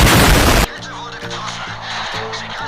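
A loud, harsh blast of video game explosion noise cuts off abruptly, followed by quieter, repeating game sound effects and a faint musical drone.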